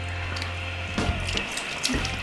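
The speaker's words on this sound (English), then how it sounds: "Turn off the hot water." Hot water runs from a tap in a steady rushing stream, close and moderately loud, with a few faint clicks and knocks over it.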